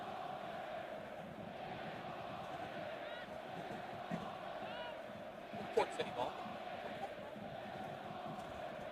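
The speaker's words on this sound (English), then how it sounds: "There's crowd noise because we have so many fans here." Crowd of fans at an NPSL soccer match between Port City and Appalachian FC at Port City House, a constant murmur of voices with a few brief shouts, under a commentator speaking.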